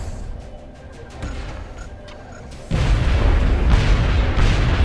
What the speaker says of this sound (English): Oh, the explosion killed him.